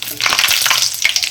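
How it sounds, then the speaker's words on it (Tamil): Fenugreek seeds fry in hot oil for a fish curry, giving a loud, close, crackling sizzle with sharp pops throughout. "வெந்தயம் நல்லா பொரியுது"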